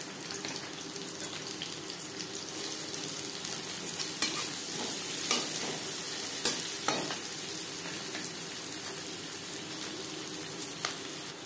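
Chopped onions fry in hot oil in a wok that was just used for frying puti fish, giving a steady close sizzle with occasional stirring clatters and no voices.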